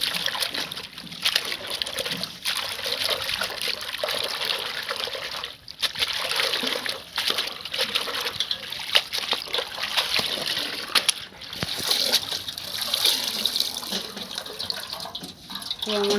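Tap water runs and splashes continuously while leafy greens (kolai shak) are washed under it in a kitchen, with intermittent rustling and splattering as the leaves are rinsed.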